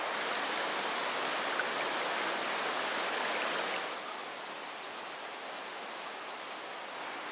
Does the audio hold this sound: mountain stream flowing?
yes